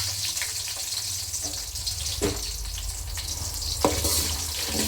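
Onions and curry leaves hit hot oil for drumstick pappu sambar, giving a steady hissing sizzle with occasional spatters and stirring clicks, close and continuous with no talking.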